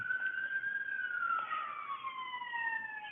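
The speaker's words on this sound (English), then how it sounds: "There's a siren behind me." An emergency vehicle siren wails outdoors behind the speaker, a single clear tone sliding slowly downward as it passes, moderately loud over faint background noise.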